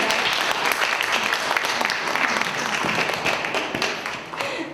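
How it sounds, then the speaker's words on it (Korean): Sustained audience applause fills a Korean book-talk event honoring a guest, a dense even patter of many hands clapping at steady loudness throughout. "김정숙 선생님께 박수 부탁드립니다"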